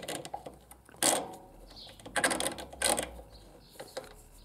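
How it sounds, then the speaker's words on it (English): A drain bolt is screwed back into a Benzhou 50 retro four-stroke scooter engine after an oil change, giving off a few sharp metallic clicks and ratcheting bursts with quieter handling noise in between, all heard close up without speech. "Drain bolt goes back in."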